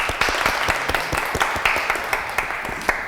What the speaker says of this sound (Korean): 감사의 박수 부탁드릴게요.